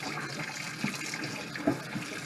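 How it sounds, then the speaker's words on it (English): Cold water runs from a kitchen tap over raw chicken being rinsed, a steady splashing stream with a few louder splatters as the meat shifts under the flow. "turn on some water, some cold water"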